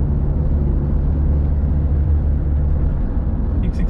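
A 2018 Toyota Innova Crysta 2.8 diesel automatic cruises in fifth gear, a steady low engine drone and road rumble heard from inside the cabin, even and unbroken.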